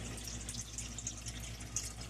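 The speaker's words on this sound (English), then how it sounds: "We've got the water overflow going into the next tank" Water overflowing from one aquarium into the next tank during a leak test, a steady trickling and splashing stream with small drips, close and continuous, no voices.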